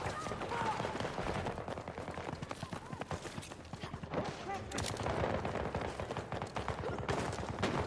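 Rapid automatic turret gunfire rattles continuously through a video game firefight, dense and steady across the whole stretch, with bursts overlapping in the mix and a player's voice faintly underneath.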